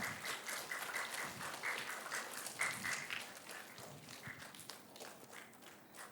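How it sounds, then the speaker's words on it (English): Students at a school Entrepreneurship Day session applaud a guest speaker, a soft, fairly distant patter of many hands clapping that holds steady throughout. "Please give a huge round of applause for Mr. Jainul."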